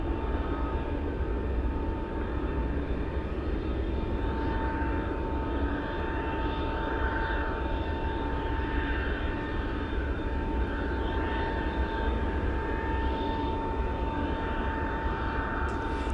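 A Royal Canadian Air Force aircraft at Anchorage airport in gusty wind produces a constant, broad engine roar with a steady tonal hum, sustained and fairly loud throughout, with no voices.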